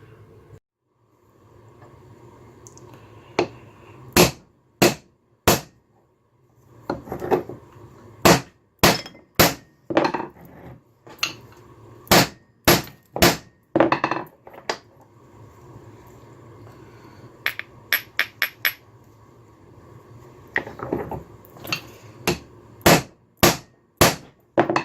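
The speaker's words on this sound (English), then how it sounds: "Hit this with the hammer." A hammer strikes chunks of malachite on a hard surface to crush it into powder, giving sharp, irregular cracking impacts with short pauses between them, close and loud.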